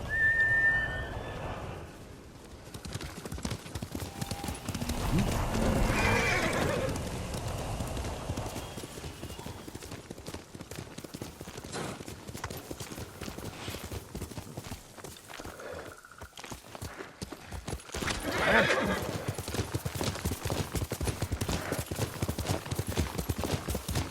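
Horse hooves clip-clop on the ground with an occasional neigh in the video game Ghost of Tsushima, a steady walking rhythm that runs throughout under background game ambience and music.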